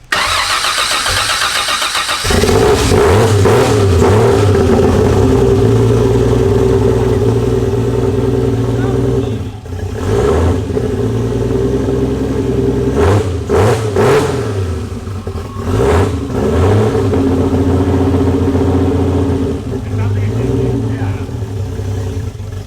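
Ford Mustang GT350 with a swapped Barra inline-six cranks and fires up, then settles into a loud, deep idle with several throttle blips and revs rising and falling, close by, with voices speaking over it.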